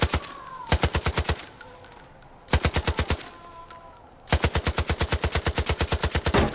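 Automatic gunfire in Far Cry 5, loud and close, with three bursts of rapid evenly spaced shots separated by short pauses, the last burst the longest.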